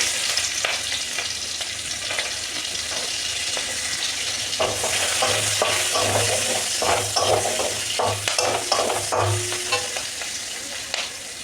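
Onions frying in a pan for chicken patties, a steady close sizzle that swells as they are stirred, with scraping strokes and soft clinks of a utensil against the pan throughout.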